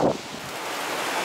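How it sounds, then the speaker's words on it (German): Strong coastal wind on the German North Sea shore, near Neuwerk, buffeting a cyclist's microphone with a steady broadband roar. Brief, with a short louder gust at the start. "Ganz schön windig."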